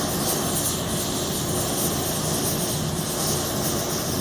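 A spray welding torch flame with metal powder fed into it roars steadily at close range, a continuous broadband hiss with no pauses.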